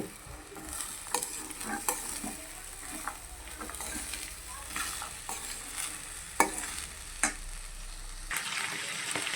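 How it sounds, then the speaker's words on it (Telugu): Boiled green peas being stirred into onions frying in oil for a green peas curry, with steady sizzling beneath repeated scraping strokes of a spoon against the pan, close and clear. "బఠానీలు ఇప్పుడు శుభ్రంగా మిక్స్ చేసుకుందాము"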